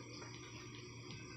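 Water runs steadily while freshly caught river tilapia and janitor fish are rinsed, a close, continuous splashing flow at low level with slight fluctuations.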